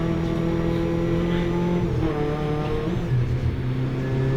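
A 750MC Hot Hatch race car engine drones loudly at Brands Hatch on the last lap of a 2019 race, a steady in-cabin note that dips and rises as the driver shifts.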